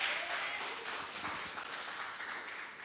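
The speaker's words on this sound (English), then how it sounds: "my amazing church clapped" A church congregation applauds together in a steady wash of clapping, moderately distant and continuous for a few seconds.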